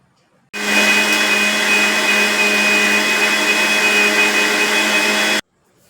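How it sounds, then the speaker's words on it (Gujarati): A mixer whirs loudly at a steady high pitch for about five seconds, starting and stopping abruptly, blending a chikoo (sapodilla) milkshake. "બધું એડ કરી અને આપણે મિક્સરમાં જ્યુસ તૈયાર કરી લેશું."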